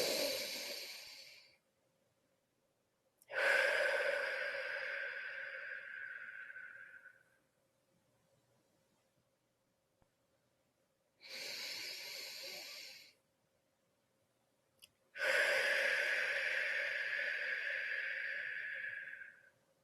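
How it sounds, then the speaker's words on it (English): Slow, deep breathing from people in a guided group session, each long inhale through the nose followed by a longer exhale through the mouth, four close, breathy swells separated by quiet pauses. "So just start taking some nice deep breaths now."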